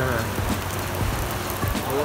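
Rain falls outside at a beach, a steady broadband hiss of drops with soft low rumble of surf, fairly loud and continuous with no voices over it.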